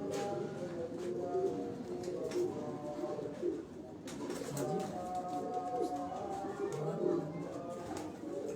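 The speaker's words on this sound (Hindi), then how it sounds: "हाँ गोल्डन कबूतर है ना।" Soft, low pigeon cooing repeats in gentle rolling phrases, mixed with a busy background of other birds and faint voices.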